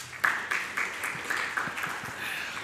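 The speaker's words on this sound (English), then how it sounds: "Please welcome him with a round of applause." An audience applauds in a hall to welcome a speaker, a moderate wash of many hands clapping that continues steadily throughout, heard from some distance.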